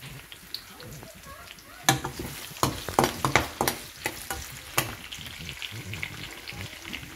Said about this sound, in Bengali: এবার মাছটা তুলে নিয়েছি, এবার এর ভেতর দিয়ে দেবো একটু পেঁয়াজ কুচি